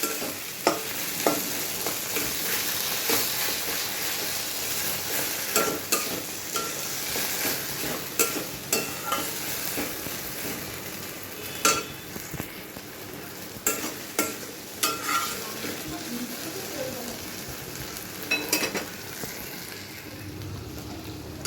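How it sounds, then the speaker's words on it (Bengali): Bombay duck (lote fish) frying in a pan while being stirred to dry it out: constant loud sizzling with frequent irregular spatula scrapes and taps throughout, no talking. "মাছটাকে এখন অনেকক্ষণ বসে এটাকে মিশিয়ে যতক্ষণ না শুকনো শুকনো হবে ততক্ষণ ভাজতে হবে"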